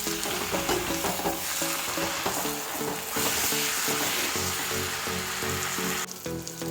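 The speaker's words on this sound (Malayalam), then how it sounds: "ഞാനൊരു രണ്ട് തക്കാളി വലിയ രണ്ട് തക്കാളി എടുത്തിട്ടുണ്ട് അപ്പോൾ ഇത് നമുക്ക് ഇലിക്കിട്ട് കൊടുത്തിട്ട് മിക്സാക്കി ഇളക്കി കൊടുക്കാം" Tomatoes are stirred into onions and green chillies frying for a chicken fry biryani, a loud, close sizzle broken by repeated scraping stirs in a fairly steady rhythm.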